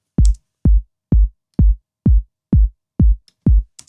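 Eight evenly spaced punchy kick drum thumps with short, tight decays, hitting in a steady rhythm with faint clicks and nothing else around them.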